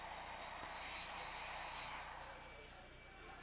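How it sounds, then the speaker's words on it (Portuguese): A passenger airplane engine drones as a steady, broad roar that holds evenly from start to finish, with no distinct events rising above the continuous hum. "outro avião repleto de passageiros"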